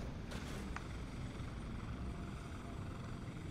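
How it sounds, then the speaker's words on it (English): A helicopter in the video game Prototype 2 drones with a steady rotor and engine rumble, moderately distant and continuous, with a couple of brief higher bursts near the start. "There's a helicopter."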